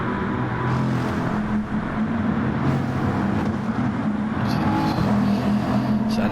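Eight race cars run together down a straight in a sim racing game, a steady loud engine drone with no clear pass-bys standing out.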